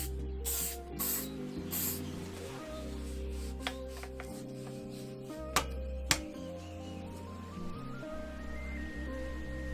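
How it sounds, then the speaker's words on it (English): Hairspray hisses in a few short aerosol bursts onto bike handlebars to help slide on grips, with light handling noise over background music. "So here I'm just using the little hairspray grip trick"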